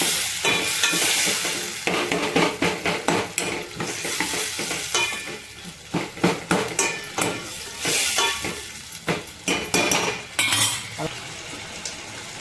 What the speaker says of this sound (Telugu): ఇప్పుడు బాగా తిప్పుదామండి, ఒకసారి అన్నీ కలుపుకున్నాం.